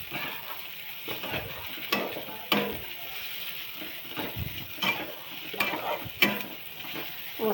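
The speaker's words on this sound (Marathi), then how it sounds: "कांदा भाजत आलाय. हे टाकून घेऊया." Onion fries for green chili thecha, sizzling softly and steadily in a pan close by, while a spoon stirs and scrapes it in repeated, irregular strokes.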